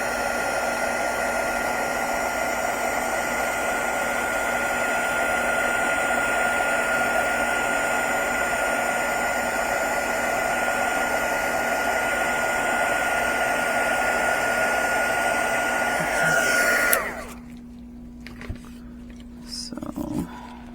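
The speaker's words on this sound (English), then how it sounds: "So my heat gun, that's what it's called." A heat gun blowing on resin gives a loud, steady whooshing roar with a fan hum, running unbroken and close for about seventeen seconds before cutting off, followed by quiet handling noises.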